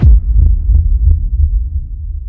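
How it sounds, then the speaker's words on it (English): A deep heartbeat sound effect thumps in a slow, steady rhythm, loud and booming low with a faint hum beneath, alone without any voices. "His heartbeat echoed louder than the world around him."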